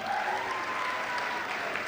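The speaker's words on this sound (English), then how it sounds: "give them a round of applause" A school assembly audience claps in a dense, steady burst of applause, loud and unbroken throughout.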